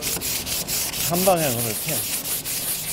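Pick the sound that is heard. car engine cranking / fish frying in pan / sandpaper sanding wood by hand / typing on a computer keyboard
sandpaper sanding wood by hand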